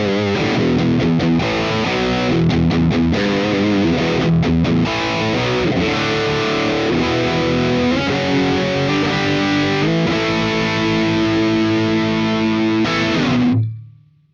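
An electric guitar played through a JHS Pedals Hard Drive distortion pedal gives loud, saturated chords and riffs with heavy gain, ringing continuously before the last chord is cut off and fades.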